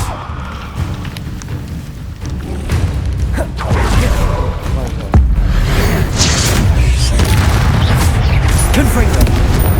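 Blasting Bombarda spell explosions in Hogwarts Legacy, a sequence of loud booming bursts and rumbling impacts amid constant combat noise, with a voice calling out spell names throughout.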